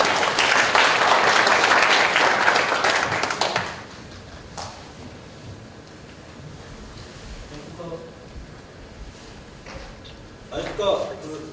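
An audience at a company quality competition gives a loud, dense burst of applause for a presenting team that fades out after about four seconds, followed by quiet room sounds, a few taps and a voice speaking.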